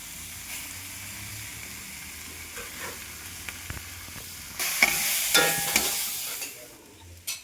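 Oil sizzling in a pan, quiet at first, then bursting into louder frying as crushed ginger and garlic drop in, with some stirring scrapes.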